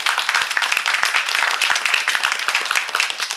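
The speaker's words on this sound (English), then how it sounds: "How about a round of applause for Riana, please?" A room full of people applauding, dense steady clapping close by, lasting a few seconds without letting up.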